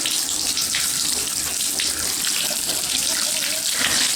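Water rushes hard and steadily from a hot-and-cold shower faucet being back flushed to clear a clog, a dense close splashing hiss that holds without pause.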